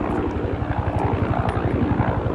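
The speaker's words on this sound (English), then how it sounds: "Helicopter." A helicopter passes overhead with a steady rapid rotor chop and engine drone, fairly loud and continuous, with no talking.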